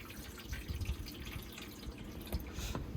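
Rice being rinsed under running tap water in a sink, a soft steady trickle and patter close by with no talking.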